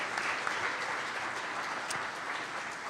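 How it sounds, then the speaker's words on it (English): Faint, distant applause from a live audience at a Packers Clubhouse Live show, a steady wash of clapping at low level for a few seconds with no one speaking. "Give them another round of applause, for making the trip over from Luxembourg tonight"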